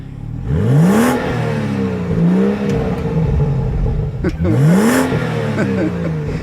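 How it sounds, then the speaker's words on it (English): A BMW M Sport car engine revs in two clear bursts, each rising sharply and then falling back, close and loud over a steady idle between them. "Let's do a little rev time."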